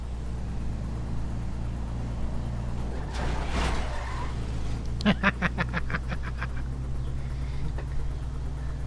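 A car in GTA Online rams into another car with a skidding crunch midway, followed by a rapid rattling burst, over steady engine drone and low background hum.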